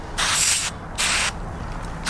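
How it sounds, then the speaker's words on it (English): Window cleaner sprayed from a trigger bottle onto car glass, two close, bright hissing bursts about half a second each, with quiet pauses between and no talking. "I get just any type of window cleaner and I go ahead and spray it down"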